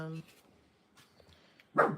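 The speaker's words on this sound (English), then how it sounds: "What are you barking at? No one's out there." A dog named Yuki gives a single sharp bark at the end, following a brief voice at the start and near silence between.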